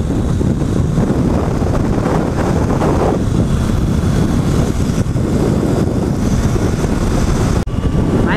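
A 2020 Triumph Tiger 800 XCA motorcycle on the move, heard as a steady, loud rush of wind buffeting the microphone with a low engine drone beneath, continuous throughout with no talking.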